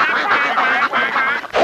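A duck quacks in a fast, loud run of nasal calls, close by and with nothing else under it.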